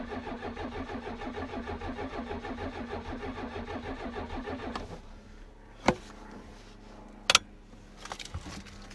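An aircraft engine on full choke cranks and turns over in a steady, rapid rhythm for about five seconds, then stops; a few sharp clicks and knocks follow in the near quiet.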